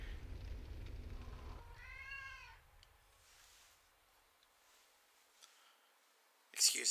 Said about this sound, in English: Excuse my cat.